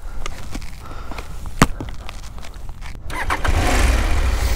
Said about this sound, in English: My first time riding an adventure bike off-road.